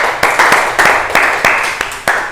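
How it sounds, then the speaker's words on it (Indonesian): Clapping from a small classroom group applauding a student after her presentation, several bursts of handclaps at close range with short pauses between them, no voices over it. "Kasih tepuk tangan buat Mbak Fatimah"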